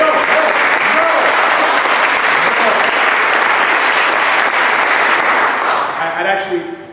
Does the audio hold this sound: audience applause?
yes